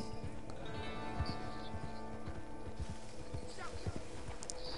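Steady clip-clop of horse hooves in an irregular walking rhythm, moderately close, with voices talking over it.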